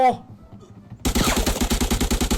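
Rapid automatic gunfire in the video game Arena Breakout, starting abruptly after a quieter stretch with a voice and continuing as a loud, steady burst of closely spaced shots.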